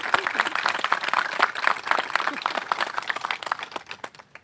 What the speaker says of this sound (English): Can we give all those groups a huge round of applause?